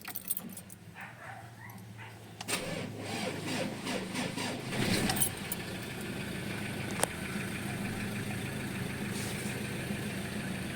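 A 2015 Ford Ranger on a road test after transmission repair, with an engine running and rising into a steady drive, accompanied by metallic jangling, clunks and a sharp click, close to the microphone.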